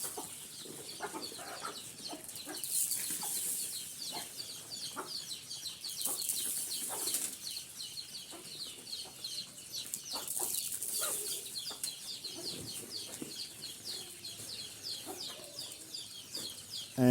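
Country chickens on an organic farm clucking in a busy chorus, with bursts of wing flapping and scattered pecking sounds, moderately close and continuous.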